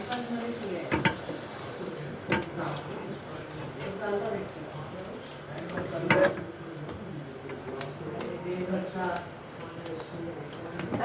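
French toast frying in butter in a pan, a steady sizzle with occasional scraping and clinks of a utensil, while a person talks over it.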